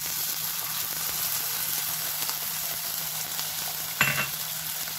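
An egg frying in a pan for a kefta hamburger gives a steady close sizzle with a crackling hiss throughout, and a brief louder clatter near the end.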